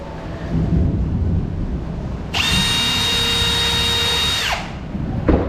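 A power drill drives 1 1/4 inch screws into a wooden octagon plant pot, one steady high whine of about two seconds rising over background noise, then cutting off, close and loud.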